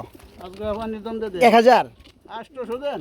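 A black Lakkha pigeon coos in a pigeon market or farm, its soft warbling calls mixed in with someone talking close by throughout.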